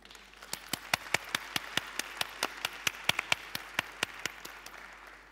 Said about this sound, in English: can we have a round of applause for Aslı?